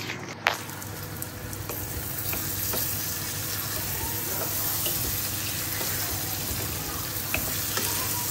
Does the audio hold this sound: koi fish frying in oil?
yes